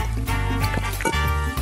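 Water gurgles and sloshes close by as someone drinks it in quick gulps, wet bubbling sounds shifting over a short span with no talk.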